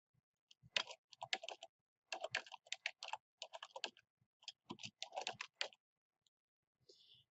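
Someone types a phrase on a computer keyboard in quick bursts of close, crisp key clicks separated by short pauses, with a brief final tap at the end.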